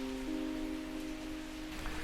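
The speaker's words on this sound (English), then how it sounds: "it's not usually raining in Bangalore right now" Steady rain pattering on a small garden patio in Bangalore, a soft continuous hiss with a faint low tonal hum running underneath, no voices.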